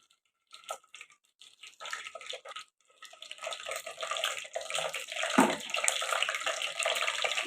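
A quarter kilo of slit eggplants fries in oil for a tamarind curry. A quiet crackle starts after a moment and builds into a steady, watery sizzle close by, with no speech.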